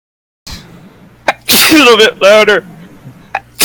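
One loud, close sneeze bursts out after a short pause, followed by brief speech and a couple of small noises near the end.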